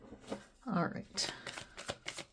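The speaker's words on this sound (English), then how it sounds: "Let me just shuffle this quick." Tarot cards are riffled and shuffled in a few quick bursts, soft and close, with a voice speaking lightly in between.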